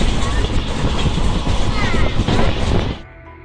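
Loud, steady rumble of a train at a station in Madurai with rhythmic clatter, ending abruptly into near quiet after about three seconds.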